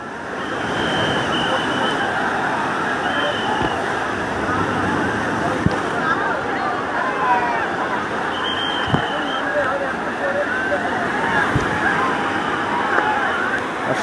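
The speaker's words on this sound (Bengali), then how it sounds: "আর ঢেউ দেখো কি প্রচন্ড পরিমাণে ঢেউ হচ্ছে এখন।" Strong sea waves roll in at Digha beach, filling the air with a constant roaring wash of surf while people talk nearby.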